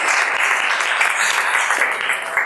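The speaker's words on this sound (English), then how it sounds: "let's give them a round of applause" Business event audience in Minneapolis breaks into steady, dense applause, a continuous wash of many hands clapping throughout with no pauses.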